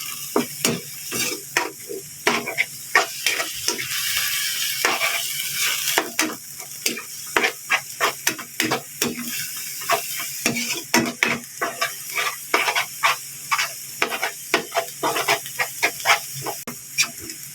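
Ground pork frying in a hot pan, a continuous sizzle and hiss broken by rhythmic scraping strokes of a spatula stirring the meat, close and fairly loud with no talking.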